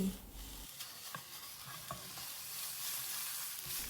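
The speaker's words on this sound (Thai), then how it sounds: "นำตะไคร้ที่เราตำกับพริกเรียบร้อยแล้วค่ะ ลงไปผัดในน้ำมันได้เลย" Pounded lemongrass and chili sizzle in hot oil for a stir-fried chicken offal dish, with a quiet, steady frying hiss broken by a few spatula scrapes and taps close by.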